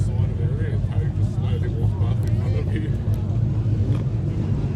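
A Nissan GT-R drag car fitted with Nitto parts and tuned by Crawdon Racing runs with a steady, deep engine drone at a drag racing festival, while someone talks over it nearby.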